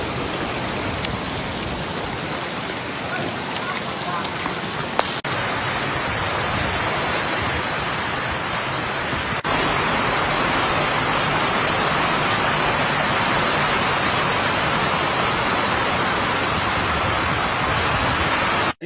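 Heavy rain falls steadily during a flood in Accra, a dense, loud, continuous hiss with no talk, growing slightly louder partway through.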